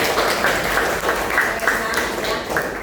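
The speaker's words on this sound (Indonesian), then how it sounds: "beri tepuk tangan buat teman-teman semua." Applause breaks out among pupils in an elementary science lesson, a steady, fairly loud patter of many small hands clapping that lasts throughout, with speech mixed in underneath.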